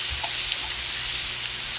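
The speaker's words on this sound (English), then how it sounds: "I'm gonna put a little bit of sesame oil in the pan, probably about 2 tablespoons. Okay, I'm gonna put some onion in there," Diced onion frying in about two tablespoons of sesame oil in a pan, a steady close sizzle with faint stirring, alone without talk.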